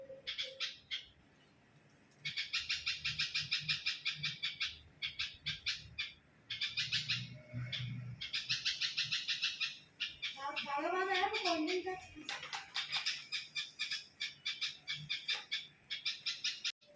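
Young birds in a nest high in a tree call loudly and repeatedly, with bursts of shrill squawking chirps and one stretch of rising cries. A voice speaks quietly underneath at times.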